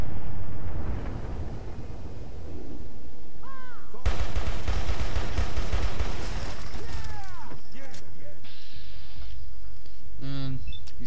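Gunfire in the video game Fallout 3, a few sharp shots breaking through a dense, crackly, glitchy game soundscape, with bursts of noise scattered across it and no one talking.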